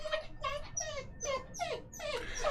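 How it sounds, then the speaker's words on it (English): A dog whimpers in a run of high, wavering whines, five or six close, repeated cries with short gaps between them. "Yes, you're a good dog, aren't you?"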